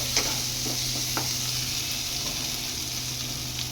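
Fried paneer stirred through sizzling masala in a pan, a steady close frying hiss with a few soft scraping strokes early on, no voices.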